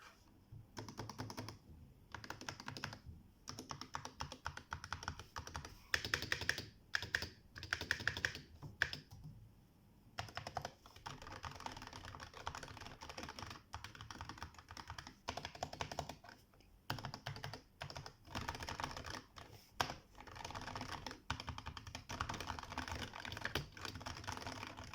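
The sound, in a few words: typing on Razer Huntsman Tournament Edition keyboard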